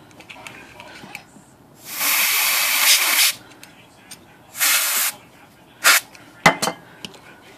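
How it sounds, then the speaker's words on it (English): Cleaner sprayed through the mechanism of a vintage Smith Corona manual typewriter during a flush: two long, loud hissing spray bursts and a shorter one, followed by a few brief clicks and clatters. "I saw some grungy oil come out of there. Just that spray through right there."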